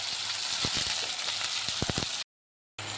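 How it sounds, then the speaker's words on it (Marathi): Cluster bean (gavar) pods fry in hot oil with a steady, close sizzle and crackle, broken by a few sharper pops before a brief dropout. "तर आपल्या गवारीच्या शेंगा छान फ्राय झाल्या बघा ताई"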